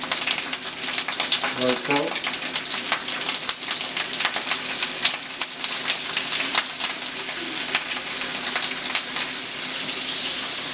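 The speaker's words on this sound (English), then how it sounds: "We're going to go ahead and turn this back down a little bit, throw our shrimps in there." Shrimp hit a hot pan for shrimp scampi and fry with a loud, dense crackling sizzle that runs throughout, while a voice speaks briefly over it.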